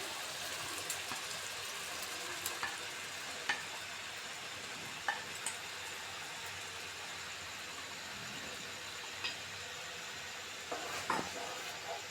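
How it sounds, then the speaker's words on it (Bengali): Soaked grains hit spices frying in oil for Bangladeshi-style haleem, giving a steady, close sizzle with a few soft stirring clicks and scrapes scattered through it. "ঠিক সেই মুহূর্তে আমরা যে দানা শস্যটাকে জল দিয়ে ভিজিয়ে রেখেছিলাম সেটা দিয়ে দিচ্ছি"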